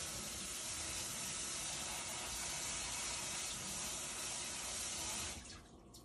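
Broken wild rice rinsed under a steady, loud stream of running tap water, an even rushing hiss that continues throughout and eases off just before the end, with no talk.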